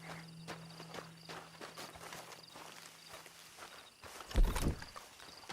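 Horse hooves clopping at a walk in Red Dead Redemption 2, a soft, steady run of footfalls under a low background hum, ending in a brief louder burst of noise.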